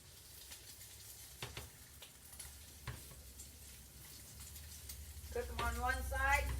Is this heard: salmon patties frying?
yes